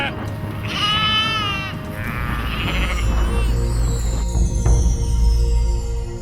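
Sheep bleating in the Irish countryside, several wavering calls in the first few seconds over a low rumbling background, fairly close, with quieter sounds trailing after.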